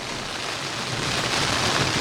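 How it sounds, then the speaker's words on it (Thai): Heavy rain pours down steadily over flooded rice fields in a Thai village, a dense, loud, unbroken hiss that fills the whole clip with no breaks. "สายฝนก็ยังแรงอยู่นะครับ"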